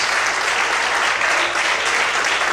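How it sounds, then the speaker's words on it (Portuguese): Sustained, dense applause from a church congregation during a sermon, many hands clapping together in a continuous, even roar that holds steady from start to finish without talk. "Mais fortes palmas."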